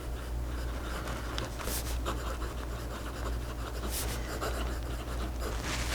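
A Majestic fountain pen scratches across paper in quick strokes and loops, faint and close, with soft breathy noise and a low background hum throughout.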